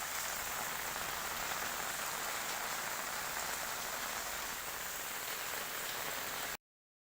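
Steady rain falls at a temple in the rainy season, a dense, even hiss of drops on surfaces that holds constant until it cuts off abruptly near the end.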